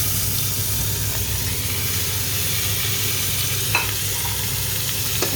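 Tomatoes sautéing in a pan of beef curry with ginger and garlic, giving a steady close sizzle and frying hiss with an occasional stir or scrape, and no voices.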